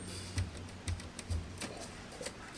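A Royal Futura portable typewriter clacks with a few soft keystrokes in a steady rhythm, faint and close over a low background hum.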